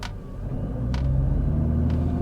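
A 2021 Nissan GT-R Premium in automatic mode held on brake and accelerator before launch, a deep engine rumble building steadily in loudness over a couple of seconds, close by with no talk.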